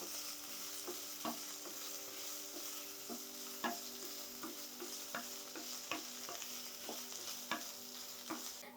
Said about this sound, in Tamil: நல்லா கொஞ்சம் வேக்காடு வர அளவுக்கு ஃப்ரை பண்ணிக்கோங்க